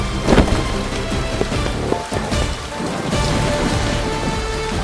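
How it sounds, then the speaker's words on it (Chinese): Heavy rain pours steadily in a dense, continuous hiss, with a few sharper splashes and thuds mixed into the constant roar. "下雨了，好大的雨！"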